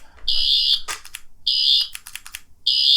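A toy sonic screwdriver gives repeated high-pitched electronic buzzing bursts alternating with clicky rattles in a quick rhythmic pattern, loud and close.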